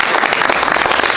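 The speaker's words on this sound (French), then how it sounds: "Les gars, petit applaudissement pour Rémi." Brief applause from the audience for a performer who has just been on stage, a short burst of dense, loud clapping.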